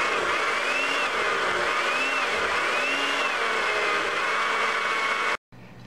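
Kitchen blender regrinding peanut salsa with a splash of water gives a loud, continuous motor drone with a wavering pitch, cut off abruptly just before the end, followed by faint room noise.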